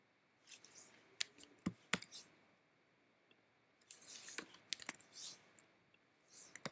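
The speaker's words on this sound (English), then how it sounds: "Let me type this in here." Sporadic keyboard key clicks, tapped out in short bursts with pauses between, quiet and close in an otherwise silent room.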